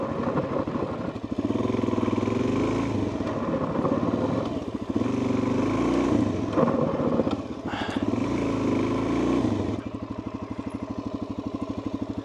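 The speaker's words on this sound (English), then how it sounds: "This is my 2023 Suzuki DR-Z400SM." 2023 Suzuki DR-Z400SM motorcycle on Supermoto street tires riding gravel roads, its single-cylinder engine thumping close and steady, rising and easing with throttle, a brief clatter midway, dropping to a lower idle near the end.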